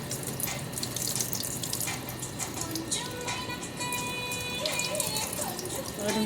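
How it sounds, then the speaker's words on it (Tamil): Tap water runs steadily into a kitchen sink as basmati rice is washed for tomato biriyani, a close splashing and trickling flow with light clinks, and faint voices in the background. "to wash the basmati rice, okay?"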